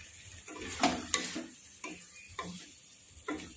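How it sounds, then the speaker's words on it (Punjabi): Potatoes are stirred into spiced masala for dry aloo sabzi in a pan, giving repeated scraping strokes of a spoon against metal over a faint, steady sizzle. "ਹੁਣ ਆਪਾਂ ਇਹਦੇ ਵਿੱਚ ਆਲੂ ਪਾ ਦਵਾਂਗੇ"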